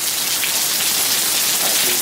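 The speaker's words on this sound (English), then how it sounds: "the rain has picked up." Heavy Hurricane Irma rain pours steadily onto surfaces outdoors, a dense, loud, unbroken hiss of drops with no voices.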